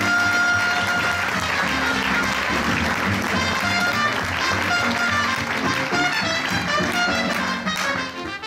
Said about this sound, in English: please give a big round of applause for Assistant Administrator Jeff Dorko